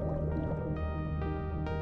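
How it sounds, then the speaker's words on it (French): A baby whale's fart in the video game Dave the Diver, a wet, bubbly squish with a droning tonal undertone, repeating in a few soft pulses over a steady game background. "Oh, pète de bébé baleine."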